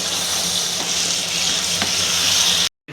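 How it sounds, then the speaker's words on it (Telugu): Tomatoes sizzle steadily in hot oil while being fried down for a flat bean pickle, a close, loud, continuous frying hiss with faint stirring scrapes and no talking. "టమాటోని బాగా వేపుతూ ఉన్నాను"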